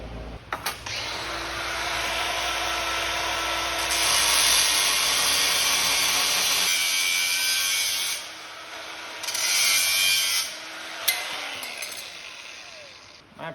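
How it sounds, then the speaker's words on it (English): An angle grinder with a cutoff wheel slices through a metal piece of broken equipment, giving a sustained, harsh, high whine that swells and drops as the cut is worked, with brief pauses between passes. "take my grinder and cutoff wheel and just cut one of these pieces off."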